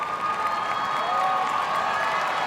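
Spectators at the Westminster Dog Show cheer and clap in a large arena, a dense, steady wash of applause with whoops and shouts rising through it.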